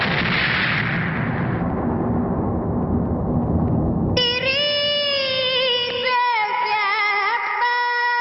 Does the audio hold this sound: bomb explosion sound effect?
yes